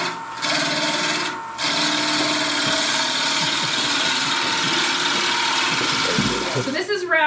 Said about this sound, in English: now as I'm doing finer cuts, I'm turning it more.